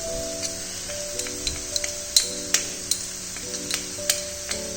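Snake gourd fries in a pan as turmeric powder goes in, giving a low sizzle under a run of sharp, irregular clicks and taps from utensils, with a steady background tone throughout.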